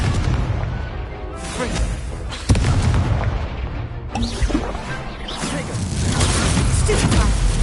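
The Confringo explosive spell goes off in the Hogwarts Legacy video game as a string of loud, booming blasts and crashes with whooshing bursts. The combat noise is heavy and nearly continuous.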